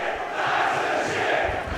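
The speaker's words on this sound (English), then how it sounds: "look, you can hear the crowd" A boxing crowd at a main-event fight roaring and cheering, a dense continuous wall of voices throughout, loud and sustained with no clear single speaker.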